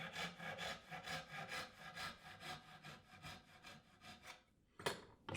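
A hand saw cuts through wood clamped in a vise for a dovetailed box, its steady rhythmic rasping strokes loud and close, about a dozen pushes before a pause and one final stroke.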